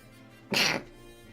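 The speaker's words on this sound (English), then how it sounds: "I gotta sneeze real quick" A single sharp sneeze bursts out close by, brief and loud against a quiet background.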